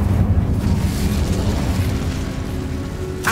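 Incendio fire spell in Hogwarts Legacy, a loud roaring fiery blast rumbling continuously and ending on a sharp crack, with no voices.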